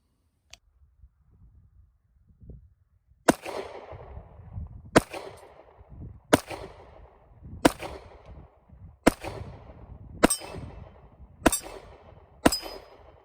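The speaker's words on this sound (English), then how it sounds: "You want me to go shoot this gun? Let's go out to the range." Eight sharp gunshots from a Ruger American Pro Compact Elite .45 ACP pistol at an outdoor range ring out loud and close, spaced about a second apart, with quieter handling noises before the first shot.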